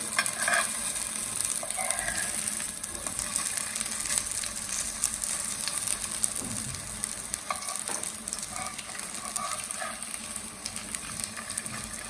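Ragda patties fry in a pan, giving a continuous, close, crackling sizzle with faint popping that holds steady throughout, alone and without speech.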